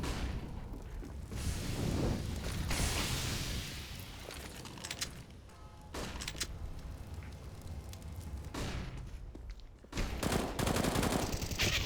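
Counter-Strike gunfire from MP9s, FAMAS and rifles in a competitive match, with bursts and rapid volleys of shots in irregular clusters, some sharp and close, others fainter, over a busy game background.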